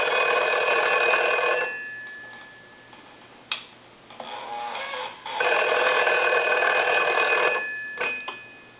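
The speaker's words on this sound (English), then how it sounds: "I want to ring the phone again." An old foreign desk-style telephone under repair rings its bell in two long, loud bursts with a short pause between, followed by a few brief clicks.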